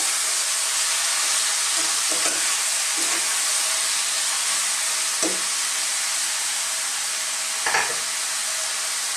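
Misua and patola soup with sardines is stirred in a pot, a steady simmering hiss underneath with a few soft scraping knocks of the spoon against the pot.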